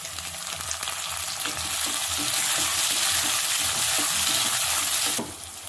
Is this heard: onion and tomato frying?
yes